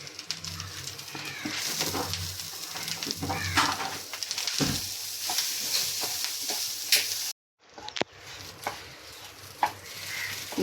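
Horse gram fried with roasted coconut for a Kerala thoran, a continuous close sizzle with spoon scraping and stirring clatter, briefly cut to silence near the end before frying noise resumes.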